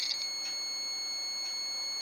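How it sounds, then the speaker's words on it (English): A multimeter set to continuity gives a steady, fairly quiet electronic buzzer tone that holds without a break while its probes test the wires of a data cable. "multimeter is set to continuity buzzer, and as soon as it detects continuity it will give a beep sound"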